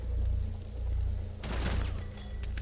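Gunfire bursts out in Rainbow Six Siege, a short sharp volley midway through over a loud, steady low rumble of game ambience.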